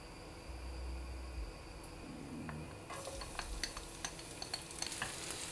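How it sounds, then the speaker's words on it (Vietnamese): Crushed garlic cloves frying in about three spoonfuls of cooking oil for stir-fried water spinach, a steady hiss that grows busier partway through with scattered crackles and stirring scrapes, close and moderate in level, no voices. "Bây giờ mình sẽ phi tỏi này rồi mình xào rau muống lên là ăn được rồi"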